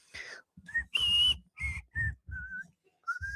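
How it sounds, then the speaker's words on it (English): A person whistles a short high tune in quick separate notes, with breathy pauses between them, close and clear with no other sound. "oh, I can't whistle right now."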